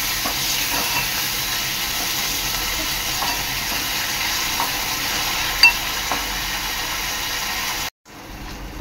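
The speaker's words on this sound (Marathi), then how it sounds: "कांदा चांगला लाल होईपर्यंत शिजवायचा आहे" Onion is fried in a pan until browned for a capsicum dish, making a steady, close hissing sizzle with faint stirring and one brief sharp click, before the sound cuts out abruptly near the end.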